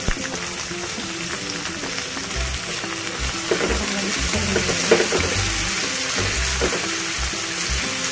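Tomato and green chillies frying with salt in a pan, for a quick desi Maggi-style khichdi: a loud, continuous sizzle with occasional spoon scrapes and stirring knocks, no one talking.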